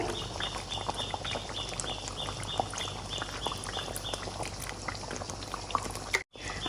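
Raw mango pickle with the skin on simmers in mustard oil with panch phoron, black salt and vinegar, giving a steady, soft bubbling and crackling from a nearby pan, with no talk over it.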